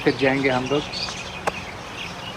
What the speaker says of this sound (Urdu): اور ساتھ ساتھ چڑیوں کی آواز